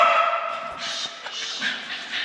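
Dogs bark and yip excitedly, several close barks with whimpering tones at the start of an outing in a van-life setting, a steady loud burst with no talk over it.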